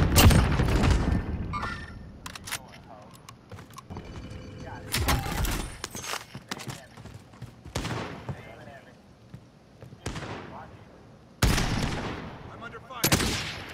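Bursts of gunfire in Call of Duty: Warzone, several loud close volleys with rapid shots and booms spread across the span, separated by quieter stretches with game ambience and a voice talking at times.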